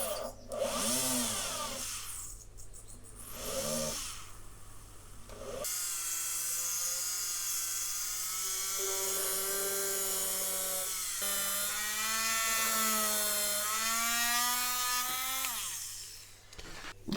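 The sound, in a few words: motor tool with 0.5mm drill drilling holes in model ship part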